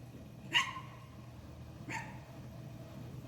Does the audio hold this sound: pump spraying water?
no